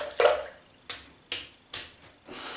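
Shaving brush shaken out over a sink: three to four sharp, wet flicks spaced about half a second apart, close and crisp, each tailing off in a brief spatter.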